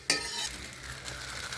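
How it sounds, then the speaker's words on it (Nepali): Walnuts, cashews and peanuts roasting in a pan, with a sharp clink of stirring at the start followed by a steady, soft dry sizzle and rustle of nuts shifting. "ओखर र काजु अनि मधिसे बदाम फेरि हालेर भुट्ने काम भइरहेछ।"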